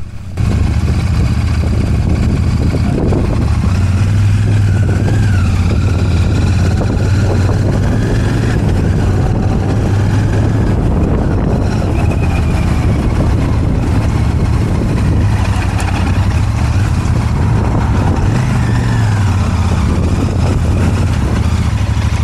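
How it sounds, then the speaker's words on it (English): A Royal Enfield Shotgun 650 on the move, its twin engine droning loudly and continuously under heavy wind rush, with slight pitch shifts as the ride goes on. "my first ride on a Royal Enfield Shotgun 650"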